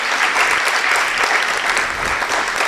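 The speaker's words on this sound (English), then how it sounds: "Let's give another hand of applause for all the work, all the featured readers." An audience at a poetry and art reading event applauds the featured readers, steady dense clapping throughout with no voices over it.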